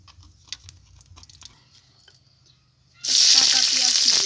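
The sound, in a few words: oil heating and sizzling in a wok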